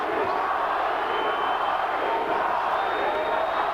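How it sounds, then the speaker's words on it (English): A boxing arena crowd chants for Paulie Ayala during his 1999 fight with Johnny Tapia: a continuous, distant roar of many voices with no single voice standing out. "The crowd chanting Paulie"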